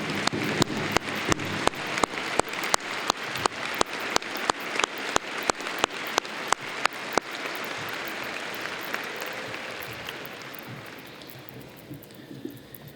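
Sustained applause from a graduation audience honoring faculty and staff, with dense clapping that carries on steadily at first and then slowly thins and fades away toward the end.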